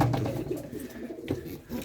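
Pigeons coo softly in low, throaty bursts, close by, with a faint rustle of movement around them.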